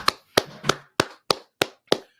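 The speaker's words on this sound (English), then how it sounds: "Go ahead and clap it up, y'all." A group at a brotherhood class claps in unison, eight sharp, evenly spaced claps at a steady beat, each crisp and woody, with silence between them.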